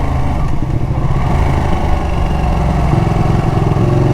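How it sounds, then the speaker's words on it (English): A 2019 Ducati Panigale 959 in Artic White Silk being ridden, its engine droning loud and steady close to the rider, the pitch shifting slightly as speed changes, with no voices. "Now guys, this is the 2019 Ducati Panigale"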